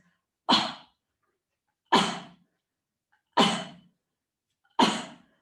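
Four short, sharp sneeze-like bursts of breath, evenly spaced about a second and a half apart, close to the microphone; likely a person imitating sneezes.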